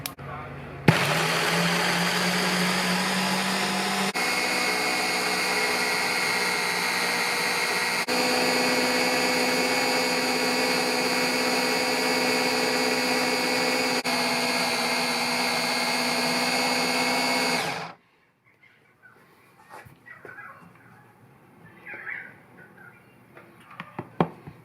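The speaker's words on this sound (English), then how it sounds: "I'm going to grind them up into as fine a powder as I can get" Small food processor grinding nuts toward a fine paste, a loud steady motor whir with slight shifts in pitch that cuts off abruptly, leaving quiet background clatter and faint noises.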